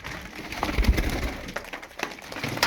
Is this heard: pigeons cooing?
yes